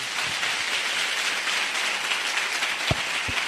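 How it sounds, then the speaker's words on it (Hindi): An audience at a Christian worship gathering claps loudly and continuously, a dense steady wash of applause for several seconds with a couple of low thumps near the end. "आइए यीशु के लिए जोरदार ताली बजाएंगे"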